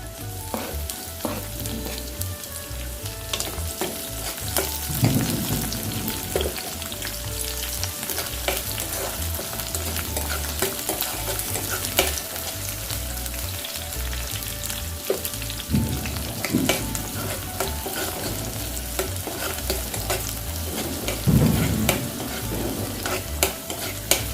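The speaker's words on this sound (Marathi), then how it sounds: "शिमला मिरची पण 1-2 मिनटं परतून घ्यायची चांगली." Capsicum stir-frying in hot oil for paneer chilli, giving a loud continuous close sizzle with occasional scraping stirs of a spatula throughout and no talk.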